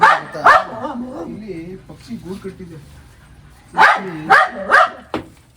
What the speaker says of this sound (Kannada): ತುಂಬ ಹೆದರ್ಕೊಂಡ್ಬಿಟ್ಟಿದೆ ನಾಯಿ ಸೌಂಡ್ ಮಾಡ್ತಿದೆ